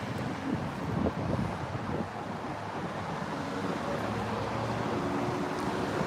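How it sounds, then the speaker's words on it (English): Wind gusts outdoors on a cool, breezy street during a protest in Fort Worth, a steady broadband rush buffeting the microphone with no talk. "It is windy and breezy. It's got a cool breeze."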